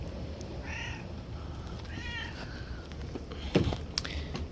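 A stray cat meows in a garden, two short, fairly close meows about a second apart, followed by a sharper rustle or knock against faint background noise.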